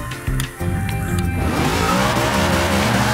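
A drag-tuned race car in Forza Motorsport 6 launches hard, the engine climbing in pitch as tires squeal and skid, loud and continuous after a brief quieter start.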